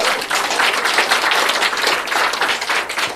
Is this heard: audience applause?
yes